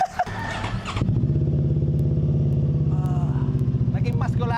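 A Voge CU525 motorcycle fitted with a handcrafted Orion exhaust muffler revs up after a brief clatter, settling into a loud, deep, pulsing rumble close by, with a few faint voices near the end.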